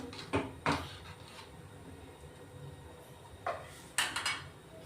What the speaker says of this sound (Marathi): भाजीवर झाकून ठेवू